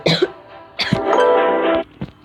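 Several coughs from a person who is ill: a short burst, a longer raspy hacking cough, then a brief final cough, close and fairly loud.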